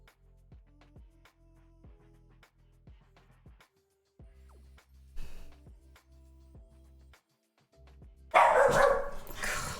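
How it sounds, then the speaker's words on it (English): A dog barks in the background indoors, with a series of short, sharp barks spaced a second or so apart at moderate distance, followed by a louder burst of close handling noise near the end. "Apologies if you can hear Cora barking in the background."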